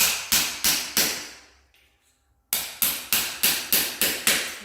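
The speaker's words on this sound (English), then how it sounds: "I just use a chisel, get it and hit near where the actual nail is." Steel chisel struck by a hammer against carpet tacks set in concrete: four sharp metallic blows in steady rhythm, a short pause, then about seven more evenly spaced strikes, close and loud.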